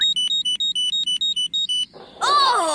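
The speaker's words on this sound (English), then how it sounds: "It beeps when you hold it over anything made of metal." A metal detector in a Bob the Builder cartoon: a rapid series of high electronic beeps in an even rhythm, about a dozen pulses, then a brief pause before a louder bright warbling tone.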